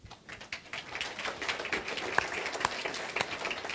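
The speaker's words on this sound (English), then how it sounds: "He always gets clapped." An audience claps steadily for a few seconds in a lecture hall, a fairly even, moderately loud round of applause that continues throughout, with no talking.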